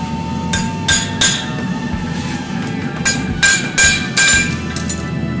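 A hammer strikes the heels of a horseshoe to bend them up, sharp metallic clinks coming in irregular groups of two or three over a steady background rumble.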